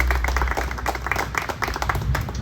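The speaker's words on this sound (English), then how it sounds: "let's give them all a round of applause, please" An audience at a July 4th reading of the Declaration of Independence claps steadily, many hands making a dense, continuous patter of applause, fairly close and moderately loud, with no speech over it.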